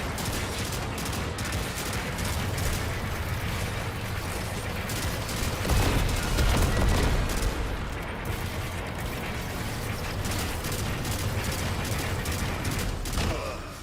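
Dense, continuous weapon fire in the sci-fi shooter Destiny 2, a rapid mechanical clatter of shots layered over thick game noise, steady and loud throughout with a brief heavier swell midway, with no clear talking.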